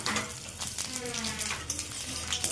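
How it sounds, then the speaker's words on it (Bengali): Whole spices crackle in hot oil: dry red chillies, a bay leaf and panch phoron frying for a Bengali fish-head and bottle gourd dish, a dense close sizzle with light stirring and faint pan clinks throughout. "শুকনো লঙ্কা ভাজা হয়ে গেছে, তেজপাতা দিয়ে দিলাম, পাঁচফোড়ন দিয়ে দিলাম"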